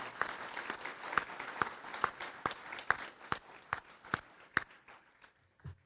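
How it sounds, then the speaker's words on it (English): Applause for military service members at a city luncheon, heard as a small, fairly quiet scattering of distinct claps spaced at an even rhythm that tapers off near the end. "and let's give them a round of applause."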